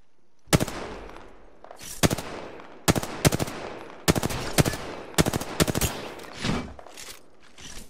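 Gunfire in a console shooter game: loud, sharp bursts of rapid shots in repeated clusters with brief gaps, close and dominant, with no speech over them.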